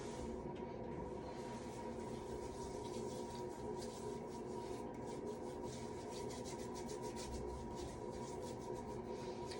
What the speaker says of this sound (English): So now I'm going to get started just with hand hygiene.